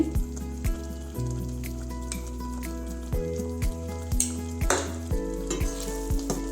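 Two spoons of ghee sizzle over cooked pongal in a pot with a steady hiss, broken by repeated clinks of a spoon stirring against the metal.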